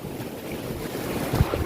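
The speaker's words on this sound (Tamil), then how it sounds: "ஃபுல்லாக சரியான காத்தா இருக்குது" Strong wind blowing at the seashore, a steady broadband rush with microphone buffeting and a slightly louder gust near the end, alongside faint sea and surf noise.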